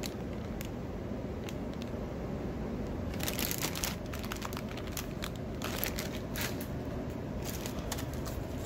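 Plastic bag crinkling and rustling as 1/25 scale model kit parts are pulled out, with scattered crackles that grow busier midway, close and fairly quiet.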